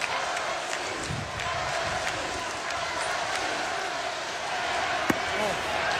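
Baseball stadium crowd cheering in a broad, steady roar throughout, with a commentator talking over it.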